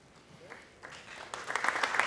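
Applause breaks out from an audience at an event honouring Argentina's Golden Generation basketball players. It begins faint and swells over a couple of seconds into louder, denser clapping.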